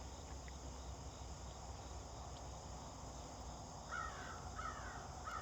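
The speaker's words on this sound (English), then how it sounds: "the crows are still noisy, Bravo" Crows caw a few times in the distance near the end, over a constant shrill drone of insects and outdoor hiss.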